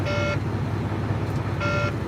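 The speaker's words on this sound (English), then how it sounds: "So now you hear the beep. I got a slow air leak up front." A semi truck's low air pressure warning, caused by a slow air leak up front, gives two short electronic beeps about a second and a half apart over a steady idling engine rumble inside the cab.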